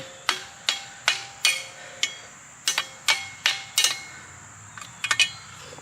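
A hammer strikes a log splitter, roughly a dozen sharp, ringing blows at an uneven pace, close by with no talking.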